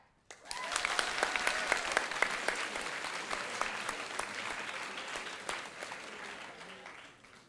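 A school opening assembly audience claps, a sudden burst of many hands that holds steady and dense, then slowly tapers off toward the end.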